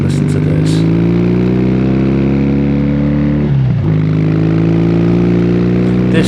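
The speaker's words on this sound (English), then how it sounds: "I think has got the nicest exhaust note on it" A steady, throaty Triumph Bonneville or Trophy motorcycle exhaust drones at constant speed with a brief dip midway, loud and close, with no talking.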